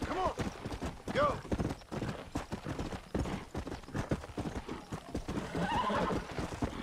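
Hooves clip-clop in a fast galloping rhythm with repeated neighs and whinnies from a horse in Red Dead Redemption, close and loud, with talking over it.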